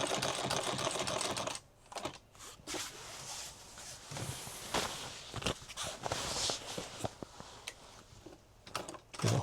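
A sewing machine stitches a duffle bag in short, loud runs of rapid stitching. Brief pauses and a few handling knocks break up the runs.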